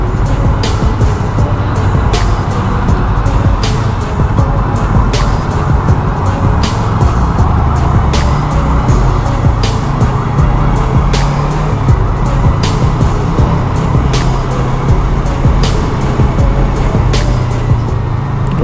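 Busy road traffic during a rainy week, with many motorcycles and cars on the way to a Kawasaki showroom in Alabang: a steady, loud, continuous rumble of engines and passing vehicles with no talk.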